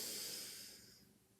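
A single long, airy breath drawn in, loud at first and gradually fading, with no voice present.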